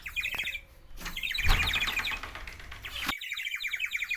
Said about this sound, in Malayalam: സൗണ്ട് കേട്ടോ, ഭയങ്കര സൗണ്ട് എപ്പോഴും ചിലപ്പാണ്.